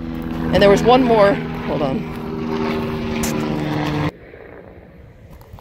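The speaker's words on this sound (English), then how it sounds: "Okay, that was a helicopter," A helicopter flies over a desert vegetable garden, a steady droning engine hum under a woman's close speech that cuts off abruptly near the end, leaving quiet outdoor background.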